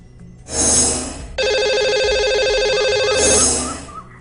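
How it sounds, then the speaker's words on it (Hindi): A telephone rings on a radio show as the line is dialled to a caller: clear electronic ring bursts close up, a short burst, a brief gap, then a long steady ring that fades out at the end. "तो लगाते हैं इन्हें अब कॉल और करते हैं इनसे बात।"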